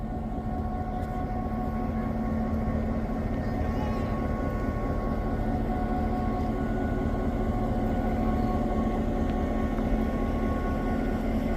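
A classic high-hood diesel locomotive on the Hocking Valley Scenic Railway in Nelsonville, Ohio, runs nearby with a steady, loud engine drone and deep humming tones, continuous and unchanging throughout.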